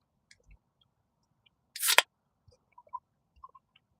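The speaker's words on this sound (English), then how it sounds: "I'm trying to chew this up." A person bites into food with a single loud crunch, followed by a few faint, scattered clicks of chewing in an otherwise quiet room.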